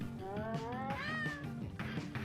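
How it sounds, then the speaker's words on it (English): A cat meows loudly and at length nearby, a drawn-out, wavering yowl that rises and falls over a steady background hum. "the cat was very noisy there"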